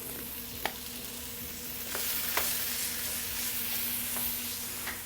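A chicken and shrimp stir fry sizzling steadily as garlic goes in, a dense hiss with a few sharp utensil taps and clicks against the pan, close and without voices.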